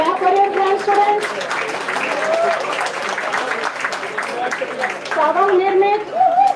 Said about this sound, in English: clap for your grand students